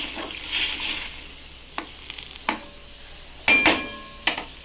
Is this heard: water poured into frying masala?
yes